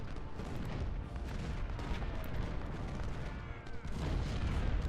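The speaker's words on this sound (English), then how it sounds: "their center here is just getting blasted by all my cannons" Civil War cannon artillery in a strategy battle game keeps booming in dense, rumbling volleys, a continuous low roar of distant and nearer blasts layered together.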